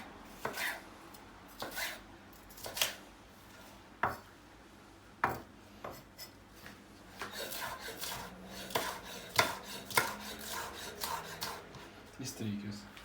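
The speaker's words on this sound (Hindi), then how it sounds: "और उसको भी क्यूब्स की फॉर्म में हम काट लेंगे।" Knife chopping a deseeded vegetable into cubes on a cutting board, a series of sharp, irregularly spaced chops close by, with soft rubbing and scraping between strikes and light kitchen clatter.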